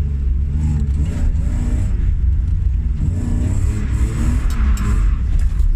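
A car engine roars close by, rising and falling in pitch as it revs and pulls hard, with rumbling road noise underneath.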